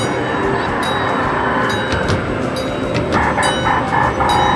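A small ride train rolls past inside West Edmonton Mall, a steady rumbling clatter set against loud, echoing crowd noise in the busy shopping hall.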